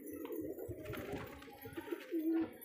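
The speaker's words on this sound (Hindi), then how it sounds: "देखो क्या बेहतरीन क्वालिटी वाले कबूतर हैं" Pigeons cooing in a loft, low soft coos repeating through the stretch, with faint rustling and a brighter call near the end.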